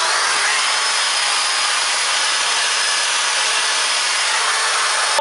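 Steady, loud sanding hiss from bathroom wall renovation work, a continuous broadband abrasive rush held evenly close by with no talk, ending with a small bump.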